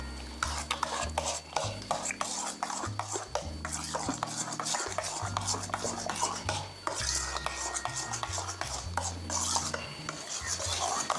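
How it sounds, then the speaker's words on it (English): A spoon stirs chicken and broccoli casserole ingredients in a bowl, giving continuous wet scraping and rubbing sounds with repeated clinks against the dish, close up and without talk. "then we're just gonna mix this together"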